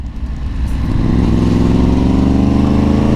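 A Yamaha MT-10 motorcycle engine idles while stationary after a short start-up burble, settling into a loud, steady, throbbing drone close by.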